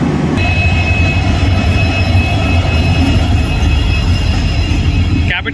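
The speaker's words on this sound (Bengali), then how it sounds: "এই টুরিস্ট স্পেশাল ট্রেন প্রায় 25 মিনিট লেট করে ঢুকলো হাসিমারা জংশনে 2 নম্বর প্ল্যাটফর্মে।" Tourist Special train pulling into platform 2 at Hasimara Junction, a loud, close, continuous rumble of wheels on rails with sustained high-pitched wheel squeal, ending in a brief clatter.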